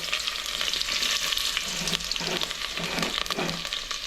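Onion and chilli frying in hot oil, a steady, close crackling sizzle with a few soft stirring scrapes running through.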